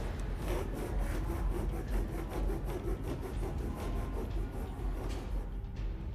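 A cloth strip is pulled back and forth behind a window pane to saw through it by friction, making a steady, close rasping rub in an even rhythm that goes on throughout.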